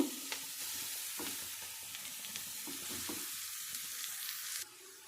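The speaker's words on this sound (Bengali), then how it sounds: "গাজরগুলো দিয়ে দেওয়া হয়ে গেছে এবার একটু আমি হালকা করে ঘিয়ের মধ্যে আমি একটু ভেজে নেব" Grated carrots sizzle in ghee in a pan while a spoon stirs them, producing a soft, steady frying hiss with occasional scraping strokes that drops off near the end, with no talking.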